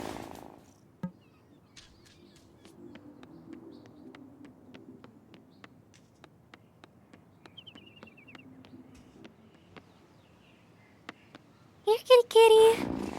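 A cat purring in the Wylde Flowers video game, a soft low steady rumble under quiet ticking game sounds, followed by brief bright bird-like chirps near the end.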